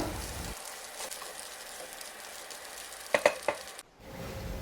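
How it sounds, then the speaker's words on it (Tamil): Egg aval upma, flattened rice with egg masala, is stirred in a hot pan: a soft sizzle under a few sharp scraping clinks of a spoon near the end, then a brief drop before the frying hiss returns. "இந்த அவலையும் முட்டை மசாலா எல்லாத்தையும் நல்லா கிண்டி விட்டுக்கோங்க"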